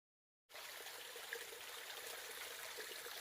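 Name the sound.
mountain spring water trickling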